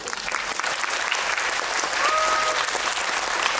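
An audience at a film festival guest talk applauds a director, a sustained, even clapping from a full crowd in a hall, with a brief faint voice or tone rising partway through.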